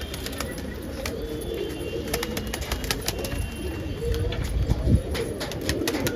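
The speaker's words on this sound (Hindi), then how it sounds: "फाइनली कबूतर आके बैठ चुका है" A pigeon coos softly after landing, its low repeated calls mixed with rustling and brief wing flaps nearby, while a person talks quietly in the background.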